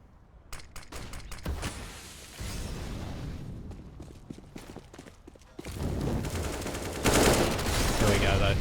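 Pistol gunfire in Counter-Strike on the Cobblestone map during a competitive match round, with rapid bursts of shots and clattering impacts, loud and dense, over a busy game mix with faint caster talk underneath.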